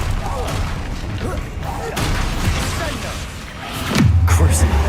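A Confringo blasting spell explodes in the Hogwarts Legacy video game, a heavy booming blast near the end that settles into a low sustained rumble, following a stretch of busy game noise.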